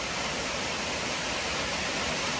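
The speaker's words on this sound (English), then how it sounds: "I want to give you one more view of the waterfalls." Waterfalls near Thomas, West Virginia roar in a steady, loud, unbroken rush of falling water with no voices.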